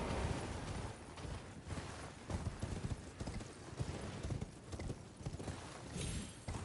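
Horse hooves gallop at a steady, rapid clip-clop in the open world of the video game Elden Ring, continuous and fairly loud throughout with no voices over them.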